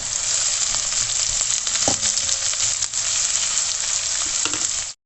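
Onions fry in a pan until soft, making a steady, fairly loud sizzle of hot oil throughout, with an occasional faint stir and no one speaking.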